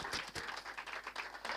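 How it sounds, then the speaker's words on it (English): Applause from a livestream audience, a dense wash of many hands clapping steadily for under two seconds, moderately loud and fairly close, with no talking over it. "Can we give him a round of applause"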